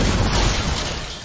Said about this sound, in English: and then there was a bang, and I heard a sound like thunder